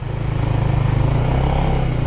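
A Honda CBR 150R motorcycle climbing a red clay hill, its engine loud and close with a pulsing, throbbing rhythm under steady throttle, no voices over it.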